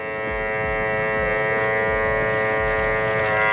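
An electric hair clipper buzzes steadily and close up while cutting a long-to-mid fade, a continuous motor hum that holds at even loudness for the whole stretch with no talk.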